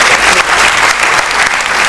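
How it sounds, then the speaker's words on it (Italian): Loud, close, thick audience applause, continuous clapping from a crowd with no break and no talking over it. "Anche Piero Natoli, un applauso a Piero."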